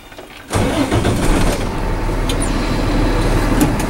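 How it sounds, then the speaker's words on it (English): A truck's diesel engine cranks and fires up, then settles into a loud, steady rumbling idle that continues for several seconds, with faint clicks above it during a pre-trip inspection. "Now I'm going to start my vehicle."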